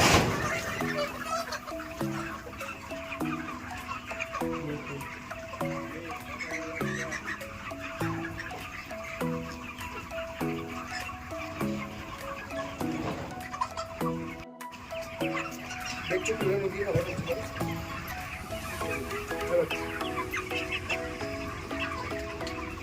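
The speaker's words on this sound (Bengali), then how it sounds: "এখানে মুরগিতে খাবার খাচ্ছে, আর এইখানে জল খাচ্ছে।" Chickens on a poultry farm cluck while they eat and drink, giving a continuous, busy chorus of repeated calls at moderate loudness with steady background noise.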